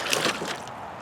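Water poured onto the hood of a Jeep XJ splashes and runs off the waxed paint: a close, brief wet hiss and spatter that fades to a quiet trickle within a second.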